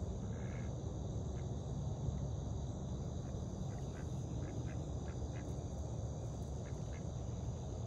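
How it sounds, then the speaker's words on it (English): Ducks at a pond quack faintly now and then at a distance, over a steady bed of chirping crickets and outdoor ambience, with no voices. "We've got ducks chasing each other. I don't know if they're they're bathing and paddling"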